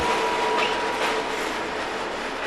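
An overnight train rumbles steadily along the rails through Italy toward Sicily, a continuous loud roar of wheels and carriage noise with faint rhythmic clatter, heard close up from on board.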